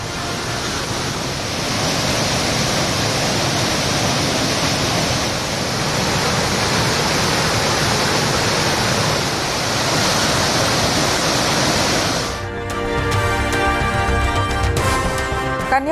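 Suruli waterfall near Kambam in Theni, swollen with floodwater after heavy hill rains, gives a steady, dense roar for about twelve seconds before music cuts in and covers it.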